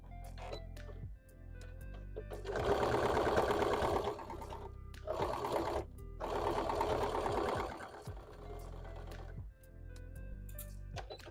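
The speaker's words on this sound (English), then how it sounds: "I'm trying not to sew the tube that's going back into the hat" A home sewing machine stitches a hat, running in three loud bursts of rapid needle chatter separated by short pauses and quieter stretches.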